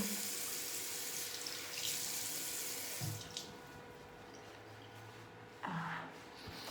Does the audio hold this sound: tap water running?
yes